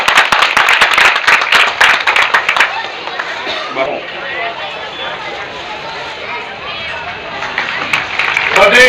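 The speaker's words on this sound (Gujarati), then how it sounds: "તાળીનો ગગડાટ થાય." Applause breaks out at a religious assembly honoring a saint's death anniversary, with dense, loud clapping for the first few seconds that settles into crowd murmur and voices, then swells again at the end.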